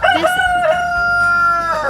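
A rooster crows loud and close at a homestead chicken coop, one long drawn-out call filling the moment with no talk over it.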